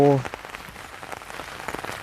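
Steady rain patters down during snail harvesting at a flooded snail pond, a dense even hiss of drops after a brief tonal sound at the start.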